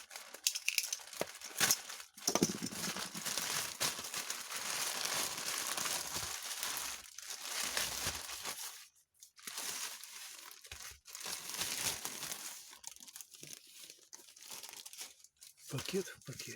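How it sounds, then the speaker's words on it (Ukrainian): Plastic parcel packaging from China being torn open and handled up close, with continuous crinkling and tearing of plastic bags filling the clip and brief pauses between bursts. "Свіжі посилочки від китайців будемо відкривати."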